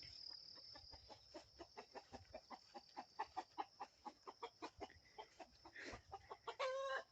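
A rooster clucks in a long run of short, evenly spaced calls, fairly close and steady, over a high insect drone, ending in a louder burst of clucking.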